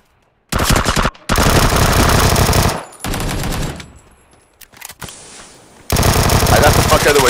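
Loud automatic gunfire rattles in rapid bursts during a PUBG: Battlegrounds ranked Taego match, with several long sustained volleys, a quieter stretch of distant shots and game noise between them, and close fire resuming at the end.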